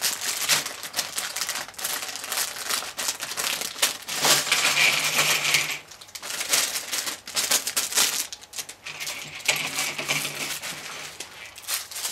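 Crinkling plastic and loose small parts rattling as a 110-piece LEGO polybag, set 40058 Decorating the Tree Christmas scene, is opened: dense, close bursts of rustling that swell and ease, with brief quieter gaps, and no talking.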